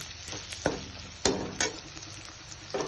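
Spices with red chili powder frying in a pan give a soft, steady sizzle, broken by a few sharp scrapes and knocks of a spoon stirring against the pan.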